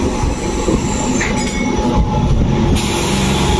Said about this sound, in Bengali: ছেড়ে দিল বিষ্ণুপুর থেকে আমাদের ট্রেন